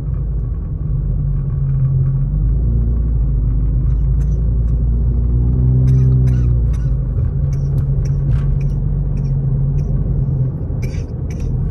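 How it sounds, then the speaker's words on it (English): Road traffic rolls past on a snowy Big Bear, California day, a continuous loud low rumble of cars with an engine swelling near the middle and faint higher clicks above. "Traffic."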